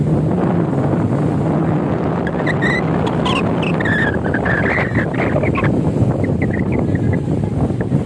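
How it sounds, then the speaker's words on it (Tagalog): Strong wind at a beach resort in Manila roars steadily across the microphone, a dense, unbroken rumble with faint higher whistles drifting through. "Sobrang lakas ng hangin dito"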